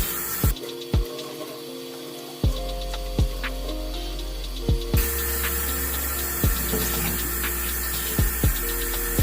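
Tap water runs steadily into a sink while an old curly headband wig is being washed, a constant hiss under sharp recurring ticks and clicks, with no talking.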